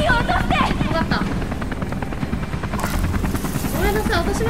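Helicopter in the video game BEYOND, its steady rotor drone and engine roar running loud and continuous throughout, with game effects layered over it.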